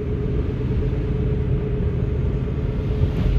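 A snowplow truck's engine rumbles steadily and close by during a heavy April snowstorm, a continuous low drone with no voices.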